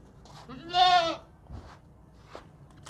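A pregnant Gabbán goat with small horns and long ears lets out a single loud, wavering bleat close by, followed by faint shuffling and quiet rustles.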